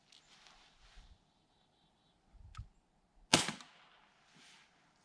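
A cap gun fires one sharp, bright pop amid faint outdoor background, preceded by a few soft clicks and handling noises; the shot stands alone, short and fairly close.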